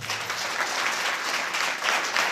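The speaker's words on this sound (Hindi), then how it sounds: "एक बार ताली बजा दीजिए" Brief burst of steady audience applause at a church gathering, a dense wash of many hands clapping evenly throughout with no speech over it.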